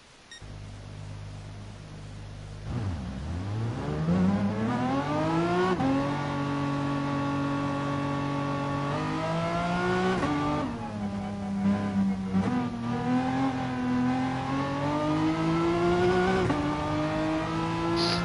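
A race car laps a circuit in a racing video game, its engine droning steadily and climbing in pitch through the gears, with repeated upshifts and brief drops as it brakes and accelerates again.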